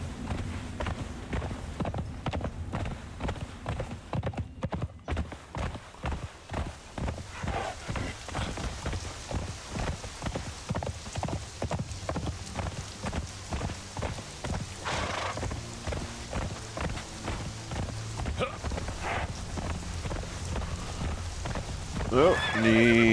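Horse hooves clip-clop in a steady, rhythmic trot through the video game Conan Exiles, continuous and fairly close, with someone talking over the footsteps.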